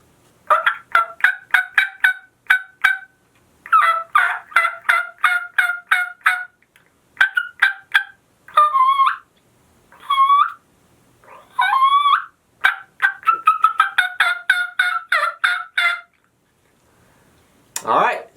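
A Woodhaven turkey call produces series of raspy yelps, loud and close, in rhythmic bursts of several notes with short pauses, some higher whining notes mixed in.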